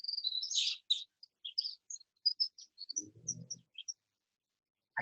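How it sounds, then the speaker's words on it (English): A winter wren sings close by on a woodland bird walk: a rapid, high, tinkling run of trills and chirps that spills out in bursts and stops briefly, with a soft low rustle partway through. "I also like when we get to hear the winter wren. They're singing right here next to us."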